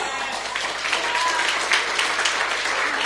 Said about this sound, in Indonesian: Bisa tepuk tangan buat Tuhan.